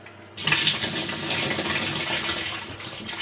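Water gushes steadily from a tap after a brief quiet start, a loud, close, continuous rushing splash with no voices.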